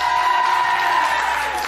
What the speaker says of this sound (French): c'est Dorothée qu'on applaudit très très fort